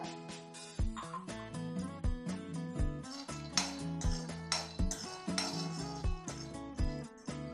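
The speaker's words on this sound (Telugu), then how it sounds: "ఇదే కడాయిలో నూనె ఏం లేకుండా పల్లీలు వేయించుకోవాలి పొడిగా" Dry peanuts tumble and rattle in an oil-free kadai, producing a quiet, continuous run of light clinks and taps against the metal pan with repeated sharper knocks, as if stirred.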